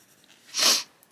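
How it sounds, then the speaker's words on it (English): One big, harsh sniff close to the microphone, lasting about a quarter of a second, with quiet indoor room tone before and after it. "that was a horrible big sniff"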